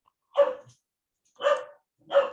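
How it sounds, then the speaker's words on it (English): A dog barks three times at moderate distance, short sharp woofs spaced by roughly a second of silence, fairly quiet and alone with no talking. "not me with the dog barking"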